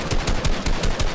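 Rapid automatic gunfire in Fortnite, about seven sharp shots in quick even succession, loud and close, with no talk over it.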